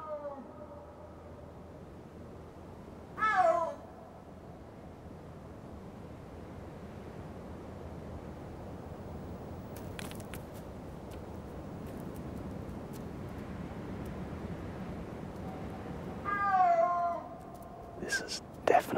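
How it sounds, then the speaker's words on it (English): Snow leopard calling in windswept mountains, two drawn-out, rising and falling yowls several seconds apart, with soft wind and a few faint clicks between them. "If they're like other big cats, they may call like this for hours, just coming together and wandering apart."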